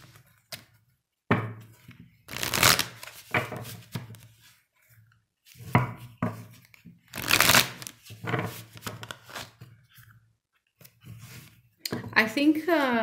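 Energy oracle cards shuffled by hand in several crisp riffling bursts with quiet pauses between them, close to the listener, while a voice talks in between.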